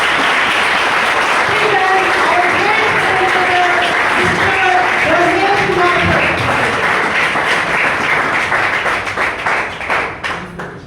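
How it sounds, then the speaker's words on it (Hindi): Loud applause from an audience at a business plan presentation fills the room, a dense sustained clatter of many hands with voices and cheers mixed in, tapering off near the end. "एक बार जोरदार तालियां होनी चाहिए मिस्टर धर्मेश कुमार सर के लिए। जोरदार तालियां।"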